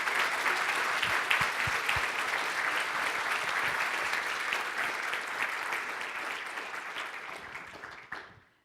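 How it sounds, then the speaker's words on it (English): An audience at a tech career symposium session on empowering women gives a sustained round of applause, dense steady clapping filling the room for about eight seconds before tapering off abruptly at the end. "I think now's a great time for a round of applause."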